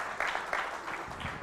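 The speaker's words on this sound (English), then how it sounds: "Now, we appreciate your applause" Short burst of audience applause after a readers' theater performance, quiet and somewhat distant, with loose clapping that fades quickly.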